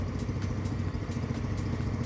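A small 125cc super sport motorcycle engine idles steadily nearby, a quiet low rumble with a light mechanical clatter and no breaks.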